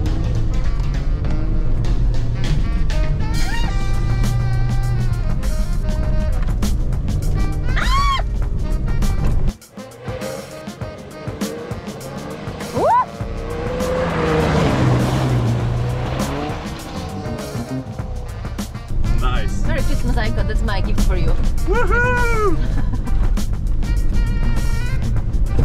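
A car runs along a road in two-wheel drive while hunting for a Christmas tree, its engine loud and continuous with tyre squeal and skidding, a brief dip around the middle, then the revving returns.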